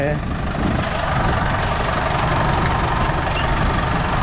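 Farm tractor engine running, a loud, steady rumbling drone with a knocking vibration that holds throughout at close range.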